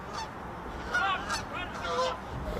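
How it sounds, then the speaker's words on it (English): Geese honk repeatedly overhead as one flies low past an outdoor amateur soccer match, the calls rising and falling over steady field ambience. "Geese have to watch out, almost got hit."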